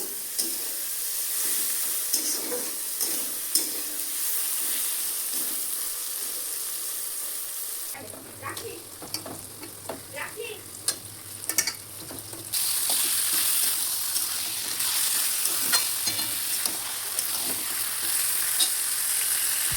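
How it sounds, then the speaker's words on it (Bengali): Onions fry in a pan as they are stirred, giving a steady close sizzle with scraping strokes throughout and a brief quieter stretch midway before the hiss picks up again. "পেঁয়াজ ভাজা হচ্ছে বন্ধুরা"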